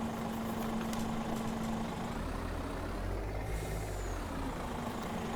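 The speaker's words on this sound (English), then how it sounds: "we're using our brand new lorry today" Lorry in Farming Simulator 22 idling with a steady engine rumble and a hissing air brake release partway through, loud and alone without talk.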